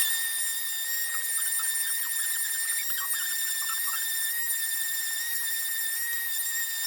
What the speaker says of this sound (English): So that needs the end sanding, so apologies for the noise.